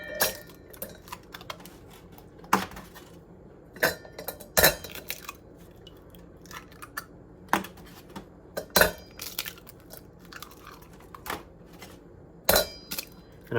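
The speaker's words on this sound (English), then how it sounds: "I'm cracking them directly into this strainer" Eggs being cracked one by one into a metal strainer in a kitchen, sharp isolated taps and cracks spaced a second or two apart, with soft clinks and handling noise in between and no talking.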